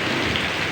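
Steady rain falls at night during a downpour, a dense, even hiss with no breaks, loud and close throughout.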